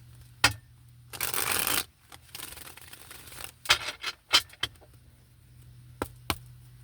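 Tarot cards being shuffled by hand: sharp riffling bursts and a longer rustling shuffle, followed by a series of crisp taps and slaps as the deck is squared, close and clear in a quiet room.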